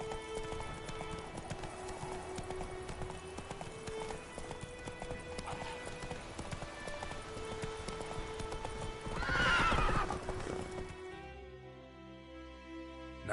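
Roach the horse trotting in Witcher 3, with steady clip-clop hoofbeats and a whinny over game ambience, ending in a sharp burst of noise before things fall quiet.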